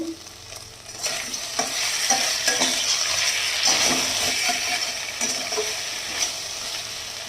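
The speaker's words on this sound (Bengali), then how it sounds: "মশলাটা প্রায় কষে এসেছে।" Spice masala frying in a pan for a rohu fish curry, a loud continuous sizzle with repeated scraping and stirring strokes, building after the lid comes off.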